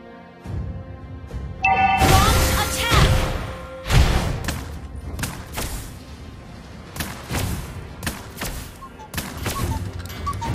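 Sniper shots from Lesley in the mobile battle game Mobile Legends ring out as sharp, separated cracks amid busy combat effects, several shots spread across the stretch.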